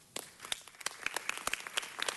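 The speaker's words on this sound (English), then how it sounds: "If we can give them a round of applause." Council meeting audience clapping for Special Olympics Southern California guests and volunteers, a sparse, moderately quiet patter of individual claps that thickens slightly as it goes on.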